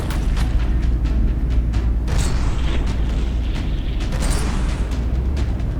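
Heavy booming impact of a shell striking a battleship in the naval combat game From The Depths, a loud rumbling low roar with mechanical clatter and a few sharp bursts throughout.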